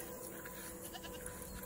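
Goats bleat faintly over a steady noisy background, a few short calls scattered through the brief stretch.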